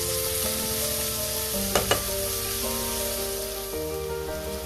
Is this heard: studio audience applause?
no